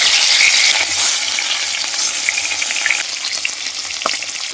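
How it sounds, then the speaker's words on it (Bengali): Fish pieces fry in hot oil for a Bengali fish curry, making a loud, close, continuous sizzle with scattered crackles and occasional pops, with no speech. "এবার আমি মাছগুলো ভেজে নিব।"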